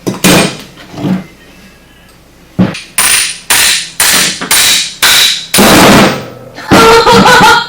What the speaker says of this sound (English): all we got to do is drive this bearing out